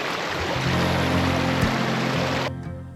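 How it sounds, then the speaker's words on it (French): Mountain stream linking lac Redon and lac Obago in the Colomers cirque of Aigüestortes National Park, Catalonia, a close, loud, steady rush of flowing water that drops away abruptly near the end. "Le ruisseau fait la jonction entre le lac Redon et le lac Obago."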